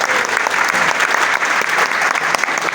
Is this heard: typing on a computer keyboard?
no